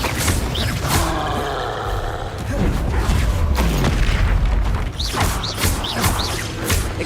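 Incendio fire spell blasts in Hogwarts Legacy, loud whooshing, roaring bursts of flame with heavy low booms, mixed with other spell effects and clanking game sounds, no talk.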